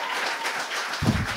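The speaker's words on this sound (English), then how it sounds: "Thank you for that entirely forced applause." An audience at a live comedy show applauds as a comedian walks on stage, a dense steady wash of clapping from a crowd, with a low thump partway through as it carries on.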